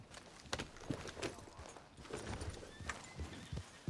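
A horse in a Wild West video game arriving near the town of Valentine, a series of soft, uneven hoof clops on a dirt surface drawing closer, with a faint sharp sound at the very end.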